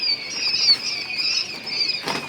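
Quail flap their wings in a rapid, fluttering burst as the birds are moved between enclosures on a quail farm, a continuous close-up rustling flutter with a brief scuffle near the end.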